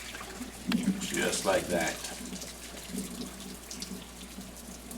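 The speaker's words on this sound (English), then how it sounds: "I come to the sink and drain the water" Boiled bucatini pasta water drains into a kitchen sink as a steady, close rushing splash under a voice, then continues as a softer, even stream.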